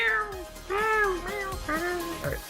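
A cat meows several times in a row, drawn-out, rising and falling calls, fairly close and clear, with faint background noise.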